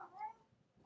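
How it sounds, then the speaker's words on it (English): A house cat gives a single short, faint meow, heard up close against a quiet indoor room. "that's my cat"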